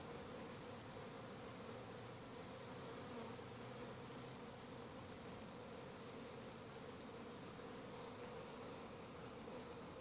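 A steady, dense buzz of many bees swarming around a parent hive and a new hive outdoors, continuous and even throughout with no voices.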